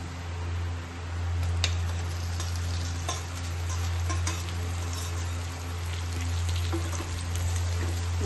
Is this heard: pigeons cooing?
no